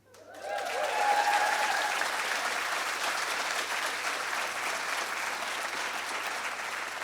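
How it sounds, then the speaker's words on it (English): Audience applause for Heather Jameson, leader of Ireland's cerebral palsy football team, swelling quickly then holding as a steady, broad wash of clapping from a sizeable crowd. "a round of applause one more time, please, for Heather Jameson"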